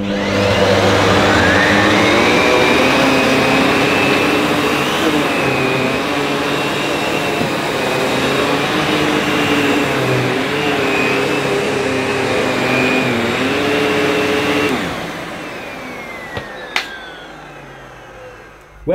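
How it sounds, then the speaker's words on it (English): A Miele Dynamic U1 Allergy upright vacuum cleaner runs close and loud with a steady high whine and airy roar for about fifteen seconds, then powers down, followed by a few clicks and knocks. "the Miele Dynamic U1 Allergy Upright Vacuum Cleaner"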